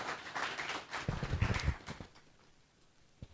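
Audience applause for the president and chairman of council at a chamber of commerce power sector event, a loose patter that swells into a denser burst of claps midway, then thins out and fades.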